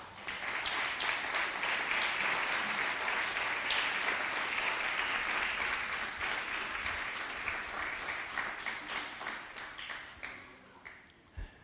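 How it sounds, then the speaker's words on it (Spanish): Church congregation applauding for several seconds, a loud, dense wash of clapping that slowly thins and fades out with a few last scattered claps. "¿Le puede dar un aplauso a Dios?"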